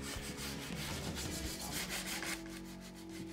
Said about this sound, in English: When you're sanding a piece like this, it doesn't have to be perfect.